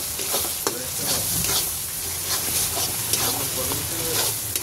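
Spice paste with ground peanuts sautéed in a pan, a close, steady frying sizzle broken by repeated scraping and stirring strokes, with no talking.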